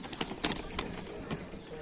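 Golden teddy pigeons, a Pakistani breed kept for sale and tournaments, giving a few soft, faint coos and short calls against low background noise.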